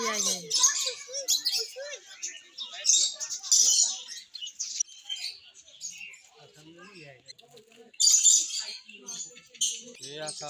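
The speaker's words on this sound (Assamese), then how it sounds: "এইবিলাক চৰাই ঘনচিৰিকাৰ নিচিনা" Small sparrow-like birds chirp in quick, high bursts at the Assam State Zoo, mixed with nearby people talking.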